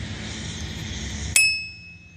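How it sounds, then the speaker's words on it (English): A small bell on the handlebars of a Mongoose Beast bicycle is struck once, giving a single bright, close ring that decays over about a second after steady background noise. "There, little bell."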